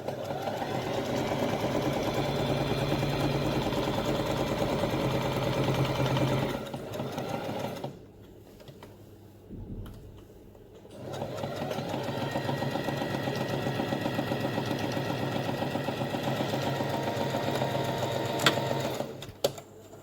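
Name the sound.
sewing machine stitching a backstitch on fabric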